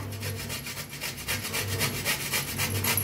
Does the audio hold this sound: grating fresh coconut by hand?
yes